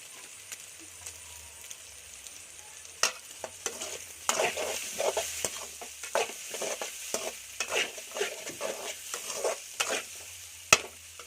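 Chopped onion frying and stirred in a wok for Kolkata-style egg chowmein, with a steady sizzle and repeated scraping, clanking strokes of the spatula growing busier, close and fairly loud.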